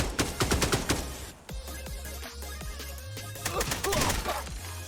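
Rapid gunfire from a tactical shooter video game, with bursts of automatic fire crackling loud and close, then scattered shots and booming impacts over a low rumbling game soundtrack.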